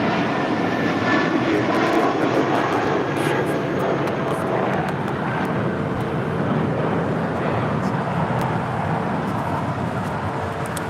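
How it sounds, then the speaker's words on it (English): JetBlue Airbus A320 taking off from LAX for Las Vegas: a sustained, loud, close jet engine roar that stays even throughout, with faint higher clicks over the top. "That was JetBlue, an A320, headed out to Las Vegas, flight 1180."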